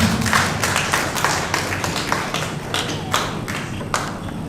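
An audience at a French-language speech applauding, with scattered claps and taps rising and falling over several seconds, fairly close and without voices.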